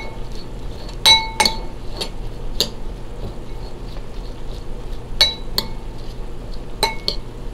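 A utensil mixes dressing into shredded coleslaw cabbage in a bowl, making sharp, sporadic clinks against the bowl in small clusters over a quiet background, with no talking.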